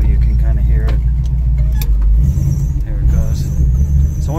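A classic car or truck engine runs steadily at close range while a thin, high belt squeal rises intermittently above the low rumble.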